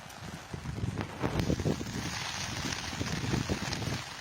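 Gusty wind from Typhoon Ulysses buffets and rushes past at close range, swelling and easing, with rain-like hiss and occasional thumps underneath.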